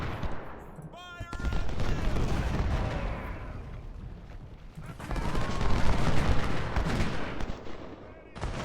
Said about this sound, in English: I forget the range you have to get to have these cannons do their grape shot.